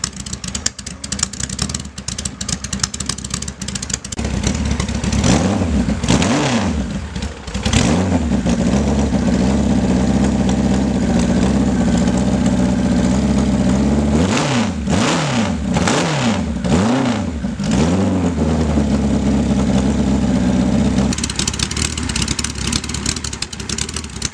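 A workshop engine fitted with high-lift cams runs loud and close, idling rough between repeated sharp revs that climb and fall quickly, several bursts in a row.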